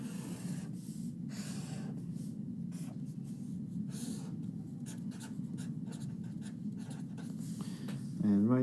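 Marker or pen strokes drawing a class diagram by hand, a steady scratchy scraping that runs throughout at close range with brief pauses between strokes.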